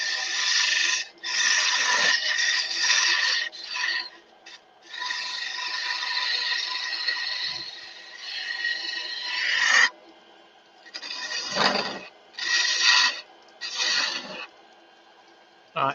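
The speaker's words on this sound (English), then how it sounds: "The difference a sharp chisel makes." A sharp chisel carves a wooden Christmas tree ornament, giving long, close scraping and shaving strokes with squeaky, rasping tones, broken by short pauses and then quicker bursts near the end.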